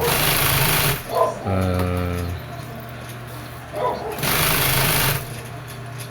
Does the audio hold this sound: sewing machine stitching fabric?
yes